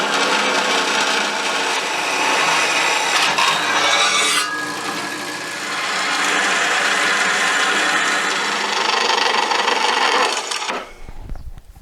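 A metal plate is cut through with a power saw while building a bandsaw belt guard: a loud, steady rasping grind runs almost without a break for about ten seconds, then cuts off abruptly near the end.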